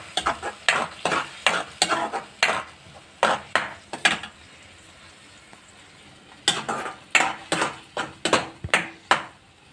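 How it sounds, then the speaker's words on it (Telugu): Tomato juice is stirred and fried in a pan, a spatula scraping in quick rhythmic strokes over a faint sizzle, with a short pause midway before the brisk stirring resumes, close and without talk. "టమాటా జ్యూస్ని ఇలా కలుపుకోవాలి. మంచిగా వేయించుకోవాలన్నమాట,"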